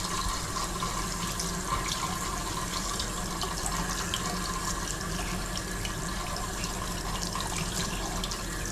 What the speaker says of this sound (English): We're running the hot water.